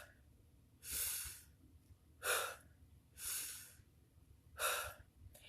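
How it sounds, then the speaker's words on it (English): Four deep, forceful inhales during a breathwork exercise, each a loud breathy rush lasting about half a second, spaced roughly evenly and close to the mic with quiet between them. "So you're doing a deep inhale."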